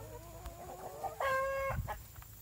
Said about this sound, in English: Well, I think that's the rooster.